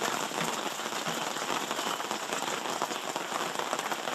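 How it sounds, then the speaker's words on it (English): Steady rain falls on a Friday morning at a mining camp, a dense, even hiss with scattered patter that stays constant throughout and carries no talking. "it is raining"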